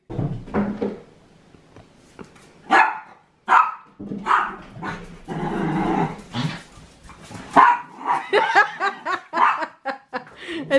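A dog in a home barks in a few sharp bursts amid indoor bumps and laughter, with people talking near the dog between barks.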